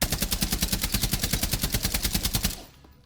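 Rifle fire in Rainbow Six Siege: a loud, rapid automatic burst of evenly spaced shots lasting about two and a half seconds, then an abrupt stop with a brief fading tail.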